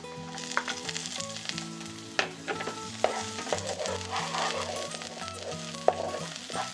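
Shrimp tossed in a pan with leek and carrot for shrimp fried rice, a close, lively sizzle broken by repeated clanks and scrapes of stirring, with sharp knocks against the pan.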